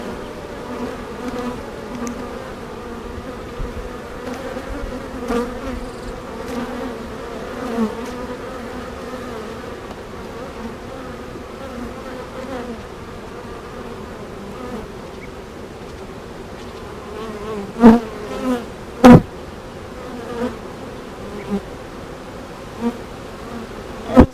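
Honeybees at an open hive during an inspection, a continuous close buzzing drone with several louder sharp bursts as individual bees fly near.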